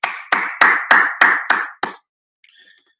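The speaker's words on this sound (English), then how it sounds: "It's not awkward at all clapping at an empty room" A single person claps seven times in a steady rhythm in an empty conference room at a developer event, each sharp clap ringing briefly in the hollow space, followed by a few faint clicks.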